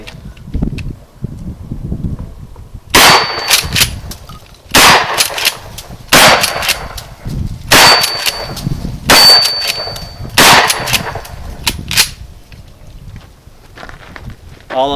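A shotgun firing heavy buckshot loads at steel targets downrange, with six loud shots spaced about a second and a half apart, each followed by metallic clangs from the struck steel, and quieter handling noise between shots.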